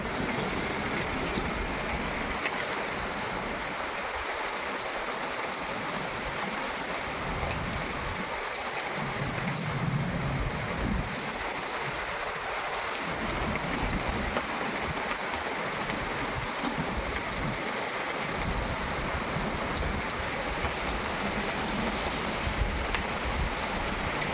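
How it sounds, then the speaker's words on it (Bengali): Steady rain falls on a rooftop in gusty, stormy wind, a dense continuous hiss of drops close by that holds at an even level throughout, with no voices. "বৃষ্টি শুরু হয়ে গেছে, তার সাথে ঝোড়ো হাওয়া।"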